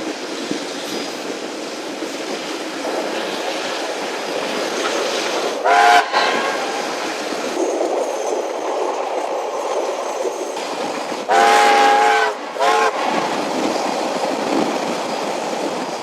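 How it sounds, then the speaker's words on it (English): A steam locomotive hauls a train up the grade toward the Reefton Saddle, giving a steady, loud rumble of wheels and exhaust, with two brief whistle blasts cutting through at intervals. "the loco starts attacking the grade up to the Reefton Saddle"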